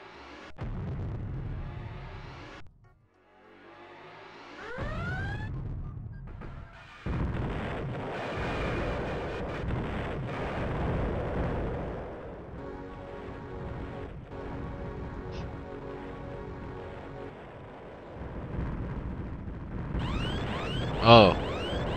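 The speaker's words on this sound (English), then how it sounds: "I forgot those Wraith bullets are pretty powerful." Wraith bullets firing and exploding in the space combat game EV Nova, a dense rumbling barrage of blasts with sweeping tonal weapon sounds and a loud hit near the end, with no talk.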